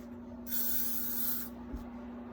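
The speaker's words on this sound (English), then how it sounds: "And then I'm going to spray this right here." Hairspray sprays onto a Dutch braid in a single steady hiss of about a second, close and fairly loud, followed by a faint tap.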